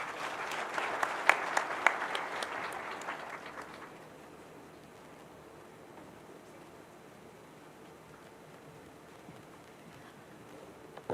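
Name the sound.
applause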